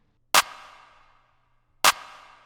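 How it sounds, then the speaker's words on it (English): Two sharp clap hits from a hip-hop beat, each drenched in reverb with a long decaying tail, spaced about a second and a half apart against silence. "It's literally just a clap that hits like this."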